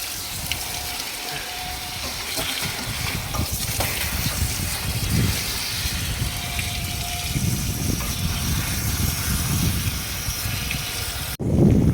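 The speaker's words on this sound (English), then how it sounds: "Probably see the dirty water coming out of it there." Dirty water gushes steadily while shale is cleaned out of the rods of a BriSCA V8 race car in a workshop, a loud continuous rushing wash that ends abruptly.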